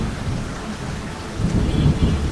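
Steady rain pours through the night while low thunder rumbles, swelling louder toward the end, with no voices over the continuous wash.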